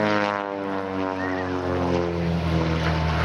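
Pitts S2B aerobatic biplane with a fabric-covered tube fuselage and wooden wings, at La Ferté-Alais: a steady, droning piston engine and propeller with a strong harmonic buzz, holding fairly constant and heard alone.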